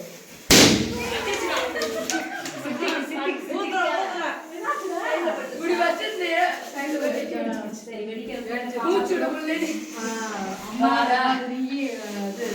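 A balloon bursts with one sharp, loud pop during a balloon-popping party game, and excited group chatter and laughter carry on steadily after it.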